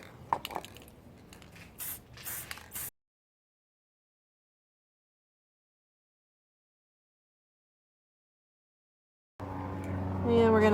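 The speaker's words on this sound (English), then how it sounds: "I'm going to spray paint using my Rust-Oleum metallic paint" Short hissing bursts of Rust-Oleum metallic spray paint coating a Dollar Tree glue gun container being made into a candle holder, close and fairly loud, then a long silence before a voice starts talking.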